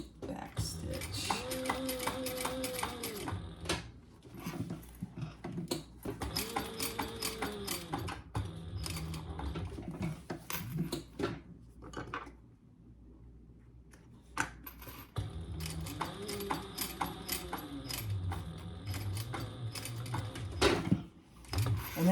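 A sewing machine back stitching while sewing a tag-along, running in several bursts of rapid mechanical chatter separated by pauses, close and moderately loud, with a voice speaking in between.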